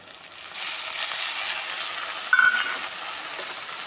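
Peas hit a pan of frying onions and green chillies, giving a steady soft sizzle and hiss with a brief louder crackle midway, close up and with no talking.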